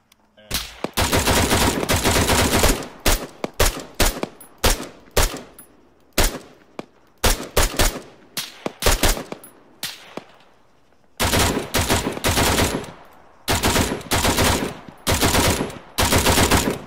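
Arma 3 video game gunfire, loud close bursts of automatic rifle and machine-gun fire in rapid volleys separated by short pauses, with faint radio chatter underneath.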